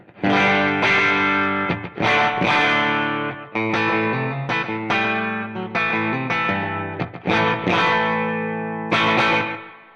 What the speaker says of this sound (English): So this is kind of what that starting point sounds like here on the bridge pickup of